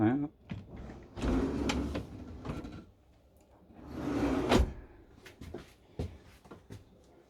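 Two quiet sliding rumbles inside a Benimar Amphitryon 967 motorhome, a drawer pulled open and then another, each ending in a soft knock, with small clicks between.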